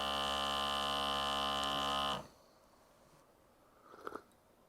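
A portable capsule coffee machine pulls espresso from ground coffee beans as a steady loud pump hum. The hum cuts off abruptly halfway through, leaving quiet room tone and a few faint clicks.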